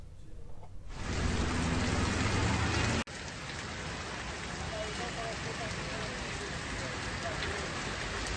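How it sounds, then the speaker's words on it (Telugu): Heavy rain pours down across Hyderabad as a dense, steady hiss that rises sharply after a second, drops out for an instant near three seconds, then continues loud and unbroken. "భారీ వర్షం భాగ్యనగరాన్ని వణికిస్తోంది"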